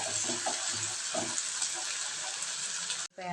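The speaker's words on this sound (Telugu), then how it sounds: "మీడియం ఫ్లేమ్లో పెట్టుకొని గోల్డెన్ బ్రౌన్ వచ్చేదాకా వేయించుకుందాం" Mushrooms frying in a pan over a medium flame give a steady, dense sizzle that holds evenly throughout and cuts off abruptly at the end.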